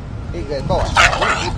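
A dog yips and barks a few times in quick succession, close by, mixed with people talking over it.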